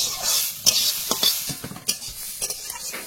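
Lentils being lightly fried in a little oil, with intermittent scraping and stirring strokes over a soft background sizzle, close up and with no talking.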